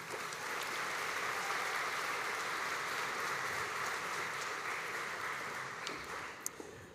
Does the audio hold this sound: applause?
yes